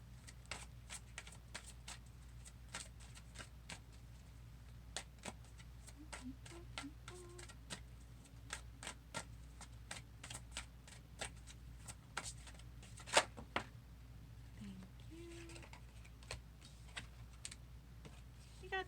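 Oracle cards being shuffled by hand, a quiet run of soft, crisp card flicks and taps at close range that comes in irregular bursts over a low steady background hum.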